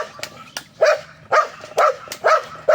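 Several loud, close dog barks arrive in a rapid irregular series, with a few softer yips between them.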